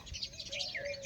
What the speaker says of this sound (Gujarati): અહીં ચકલા બે